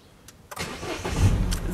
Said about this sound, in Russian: Сейчас машина только прогреется.